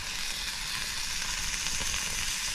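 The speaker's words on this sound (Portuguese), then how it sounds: "Vai fritar, tá vendo?" Fish fries in hot oil with a continuous, even sizzle and crackle, close and fairly loud, with no voices.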